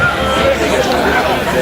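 A Lipscomb crowd at a men's college soccer match voices disapproval, a loud, broad wash of jeering and murmuring, with a commentator talking over it.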